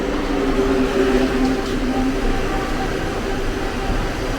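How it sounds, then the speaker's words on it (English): A steady, continuous rumble of a passing train in Kuala Lumpur, Malaysia, moderately loud and unbroken, with faint higher squeals briefly riding on top. "I was wondering what that sound is. It's a train."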